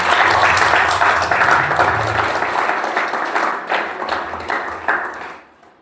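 Church congregation applauding and clapping to acclaim Jesus at a worship service, a loud sustained crowd of hands that rolls on for several seconds and then fades out near the end.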